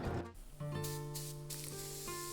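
A paint spray gun hisses steadily while laying down two quick, light drop coats over a panel, a continuous close airy spray with a faint tonal whine running throughout.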